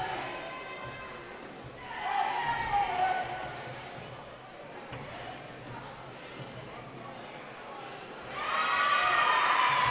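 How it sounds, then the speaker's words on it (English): An excited crowd at a girls high school basketball game, with cheering swelling in bursts over court noise, rising loudly near the end. "as you can hear from the excitement of the crowd."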